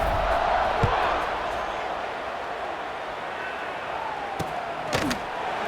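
Stadium crowd in a college football video game, Indiana against Cincinnati, roars steadily in the background while a commentator talks over it, with a few sharp thumps cutting through.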